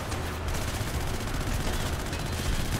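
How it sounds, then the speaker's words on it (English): Assault rifles fire in the PC video game Hatred in a loud, unbroken barrage of rapid automatic shots that fills the whole stretch without pause. "she's using those assault rifles on them"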